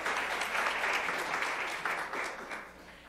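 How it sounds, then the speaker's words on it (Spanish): Attendees at a lecture on vitamin D metabolism in kidney disease give a short round of applause, a brief, fairly quiet burst of many hands clapping that tapers slightly. "Un aplauso"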